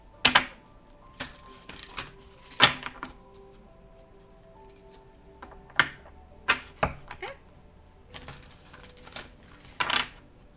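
Tarot cards are shuffled and tapped in short, sharp bursts with quiet gaps between, close by and fairly soft.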